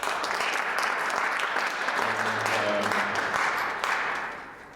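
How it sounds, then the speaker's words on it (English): An audience applauds steadily for Mr. Francisco, dense clapping holding at a constant level before easing off toward the end. "Let's all give him a round of applause."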